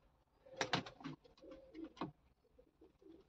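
Pet pigeons kept in a loft coo softly nearby, a few low throaty calls with soft flutter-like bursts, faint and close in a quiet setting.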